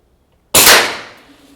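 A single sharp shot from a Kral Armour PCP airgun, a loud close crack that starts abruptly and trails off in a bright, hissing decay of about a second.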